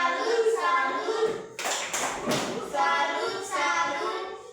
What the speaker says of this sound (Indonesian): Tepuk tangan, tepuk salut dulu untuk kelompok 3.